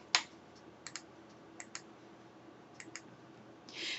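Fingers tap an account number into a computer keyboard in accounting software, a few quiet, sparse key clicks close by in a hushed room, ending with a slightly louder press.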